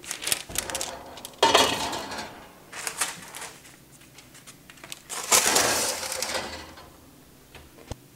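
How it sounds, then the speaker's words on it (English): A cookie sheet of homemade snow-topped chocolate cookies is handled and slid into an oven, giving a few separate metallic clanks and rattles with quiet pauses in between. The sounds are close and moderately loud, and no one speaks. "Now that they're on my cookie sheet, I'll place them in my oven."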